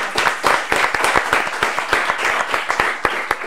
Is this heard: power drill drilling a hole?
no